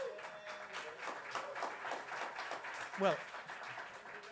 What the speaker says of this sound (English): you're clapping yourself for yourself